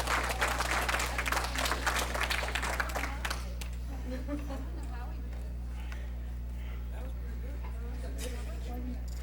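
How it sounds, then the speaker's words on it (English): Audience applause at a 95th birthday party for the honoree: a burst of dense clapping for about three seconds over a steady electrical hum, then fading to a quieter room with scattered sounds. "Now give her a round of applause."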